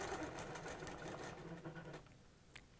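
A sewing machine back-stitches a ruler pattern for a cable quilting ruler, whirring in a fast, even rhythmic run of needle strokes that stops about two seconds in, followed by a faint click; fairly quiet and close.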